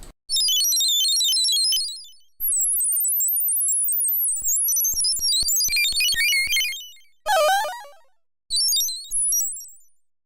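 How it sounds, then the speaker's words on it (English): Commodore 64 SID 6581 synth preset whose pitch jumps randomly and very rapidly, producing a chattering, burbling stream of high bleeps in bursts with short gaps, solo and fairly loud. "It just randomly changes the pitch very quickly."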